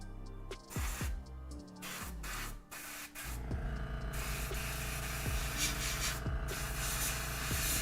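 An airbrush sprays paint in a steady close hiss, broken by a few short stops and restarts early on before running continuously.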